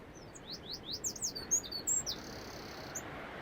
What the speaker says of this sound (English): It's a very loud wren.